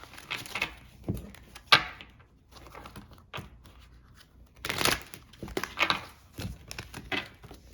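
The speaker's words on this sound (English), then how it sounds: "So I want to pre-shuffle it a little bit here." A tea leaf oracle card deck is shuffled by hand close up, giving irregular papery riffles and soft slaps in short bursts with brief pauses between.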